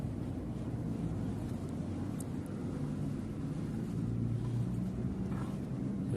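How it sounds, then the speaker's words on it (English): A small engine with a CDI ignition is turned over by hand, giving a steady low mechanical drone with a faint, slight rubbing inside, close and alone with no talk. "when I turn the engine over, there's a slight rubbing"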